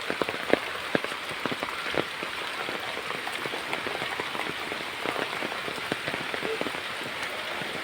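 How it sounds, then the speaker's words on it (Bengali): Steady rain falls in a village onto a pond and the surrounding ground, a dense, even patter with scattered sharper drops close by, continuous and moderately loud throughout with no voices. "দেখেন, বৃষ্টি পড়ছে, বাইরে ছাতা নিয়ে ঘুরছি"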